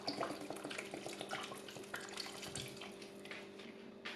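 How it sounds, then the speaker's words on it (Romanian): Water poured from a tap or jug into a pot of tomato soup, about half a litre, giving a steady close splashing stream with small drips, alone without talk. "Mai punem 500 de ml de apă"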